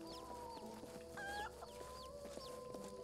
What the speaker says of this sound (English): Chickens. Look at the chickens.